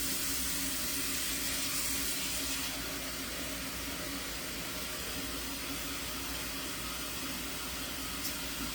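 Water pours steadily from a tap onto kosher-salted food while cooking at home, a continuous hissing, splashing rush that holds at a fairly even level for the whole stretch, close by, with no talking.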